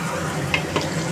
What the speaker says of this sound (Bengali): এখানে আমি টমেটো কুচি, আদা, স্বাদ মতো চিনি, নুন, হলুদ গুঁড়ো, জিরে গুঁড়ো, ধনে গুঁড়ো দিয়ে আমি এর সাথে কষাবো